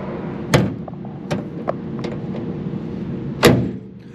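Several dull thumps and clunks of a vehicle door being worked and shut, the loudest slam near the end, in a quiet space with no talking.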